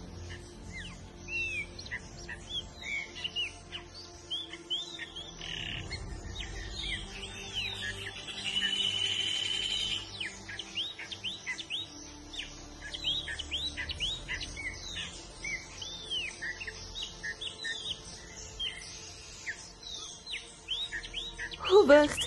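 A dense chorus of many birds chirping and singing, overlapping tweets and warbles running steadily throughout at moderate loudness.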